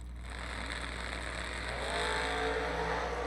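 A Mustang drag racing at a strip thunders with a steady, loud engine roar that swells slightly as it pulls away, heard from trackside with no one talking.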